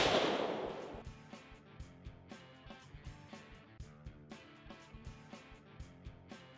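A .50 caliber Desert Eagle shot into a car tire gives one loud close blast that fades slowly, then a run of steady, evenly spaced mechanical clicks and taps.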